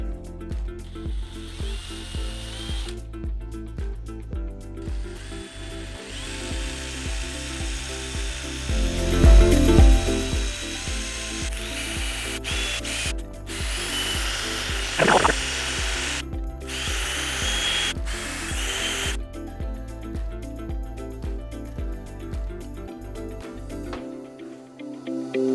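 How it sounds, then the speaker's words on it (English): A power drill with a 1/8 bit drills out a damaged thread in an LS engine, a steady loud whine running nearly the whole time with brief surges in load and a sudden stop near the end. "First thing, I'm using a 1/8 drill bit."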